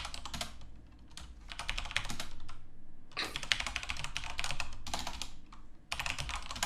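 Quick typing on a MacBook keyboard in bed, bursts of soft, fast key clicks broken by short pauses, close and clear with no talk over it.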